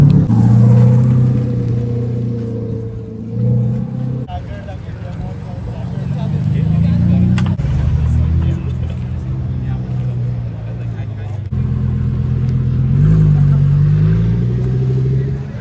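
A car rolls into a BMW car event, its engine rumbling and swelling in low waves as it approaches and passes, while someone talks nearby over the motor.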